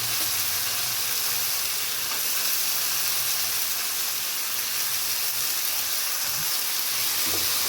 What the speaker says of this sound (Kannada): ಈಗ ಕ್ಯಾಪ್ಸಿಕಮ್ ಹಾಕ್ತಾ ಇದ್ದೀನಿ ನಾನು